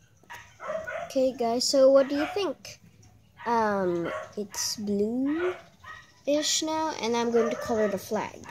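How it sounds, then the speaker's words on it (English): Dogs bark in the background of an indoor sand art crafts session, short barks breaking through between stretches of a person talking close to the mic. "sorry for the dogs barking"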